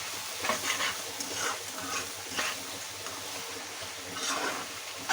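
A spoon stirs a thick cabbage stew cooked with hilsa fish head in a pan, giving soft, repeated scraping and stirring strokes over a low, continuous sizzle, close and alone without talk.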